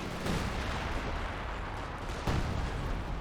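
Artillery fire in the World War II strategy game Company of Heroes 2, a dense rumbling barrage of booms that is loud and continuous throughout, with one sharper impact near the end.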